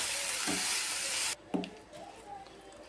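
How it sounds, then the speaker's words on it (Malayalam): Mushrooms being stirred in a pan for a Kerala-style mushroom thoran, with a steady broadband sizzle-like hiss that cuts off abruptly, then a few soft scraping stirs and faint wet squishes close by. "ഇനി നമുക്കിതിലേക്ക് നമ്മളെടുത്ത് വെച്ചിരിക്കുന്ന കൂണ് ചേർത്ത് ഇളക്കി വെച്ചിട്ട് അതിലേക്ക് വെച്ച് നന്നായിട്ടിത് ഇളക്കി കൊടുക്കും"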